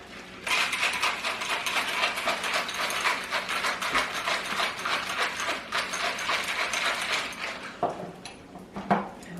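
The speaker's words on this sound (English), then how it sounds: "let's mix this margarita up" A margarita tinted with blue curaçao rattles hard in a cocktail shaker, ice clattering in a fast, steady rhythm close by for about eight seconds before slowing to a few final knocks.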